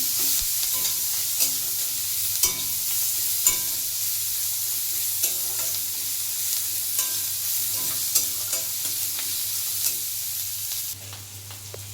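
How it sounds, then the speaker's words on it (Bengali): A spatula stirs onion and chilli frying in a pan for a Bengali bhola fish curry, with regular scraping taps over a constant close sizzle that quiets slightly at the end. "এবার একটু নেড়ে নিচ্ছি।"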